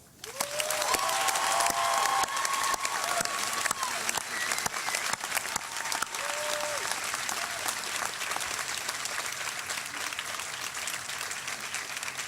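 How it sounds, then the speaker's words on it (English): Law school graduates at a 2016 commencement ceremony burst into sustained applause for their families and friends, a dense wash of clapping from a large crowd lasting throughout, with a few faint whistles early on. "join me in a round of applause for the family and friends who lifted us on their shoulders"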